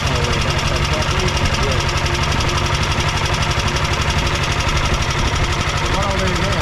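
A BSA motorcycle engine runs steadily, powering a large towable camping fridge, with a continuous knocking, vibrating idle throughout and voices talking over it.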